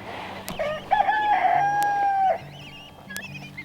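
Backlit roosters crow outdoors in the cold, with a long clear cock-a-doodle-doo close by and overlapping shorter crows and clucks from other birds around it.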